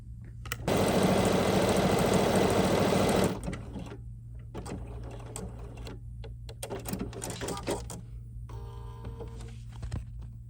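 A BERNINA 735 sewing machine runs a decorative stitch in one loud, steady burst of about three seconds, then gives quieter intermittent clicks and short mechanical whirs of stitch-setting adjustments.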